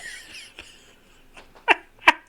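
Two quick, close sneezes in succession, each a sharp burst after soft breathy intakes, in an otherwise quiet space.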